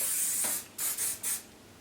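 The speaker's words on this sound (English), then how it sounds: "So again, I'm just going to get the hairspray." Hairspray from an aerosol can spritzed onto styled hair in a series of bursts: one longer hiss, then two short, sharp sprays close to the mic, with brief quiet gaps between them.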